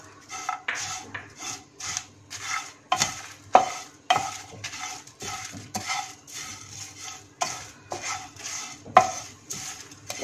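Roasted whole spices and coconut are stirred in a dry pan: a close, uneven run of scraping and clinking strokes with short pauses between them, and a few sharper taps where the utensil hits the pan. No voices.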